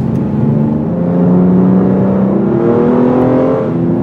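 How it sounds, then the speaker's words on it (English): A 2010 Hyundai Genesis Coupe accelerates hard, its engine note climbing steadily in pitch through a loud, continuous drone heard from inside the car with no talking. "Here's the problem and the promise of the Hyundai Coupe in a nutshell. When you accelerate like this,"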